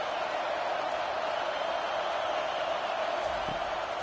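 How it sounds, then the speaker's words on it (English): A football stadium crowd roars on third down at an Oklahoma game, a dense, steady wall of cheering that holds at one level throughout with no break. "Big 3rd down as the crowd gets behind this defense."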